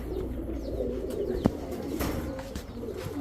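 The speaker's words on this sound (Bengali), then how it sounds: "খালি কবুতরগুলো দেখবেন।" Giribaz high-flyer pigeons coo in a steady, low, overlapping murmur close by, with no voices present.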